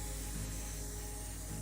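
A spray gun lays paint onto a thrift store nightstand in a continuous, close, even hiss that holds steady from start to finish.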